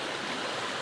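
A shallow stream flows steadily, its broad wash of rushing, splashing water filling the brief moment, loud and close with no talking.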